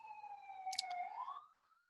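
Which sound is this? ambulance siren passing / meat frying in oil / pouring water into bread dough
ambulance siren passing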